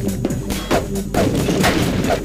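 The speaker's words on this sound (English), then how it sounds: "They're shooting at me." Enemy gunfire in the video game Half-Life 2 Episode 2, loud repeated shots and booming impacts hammering at a fast, irregular rhythm with no talking.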